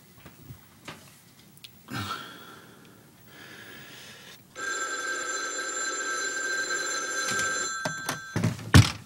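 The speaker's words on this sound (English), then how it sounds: "Pick up the phone." A telephone bell rings steadily for about three seconds, loud and close, after a few soft thumps and breaths, with more handling knocks as it stops.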